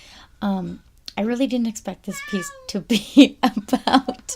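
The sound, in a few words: cat meowing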